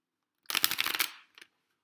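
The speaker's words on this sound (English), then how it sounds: "And that was a horrible shuffle." Tarot cards shuffled once in a quick, crisp riffle lasting under a second, close and fairly loud, followed by a couple of faint taps as the deck settles, with no talk.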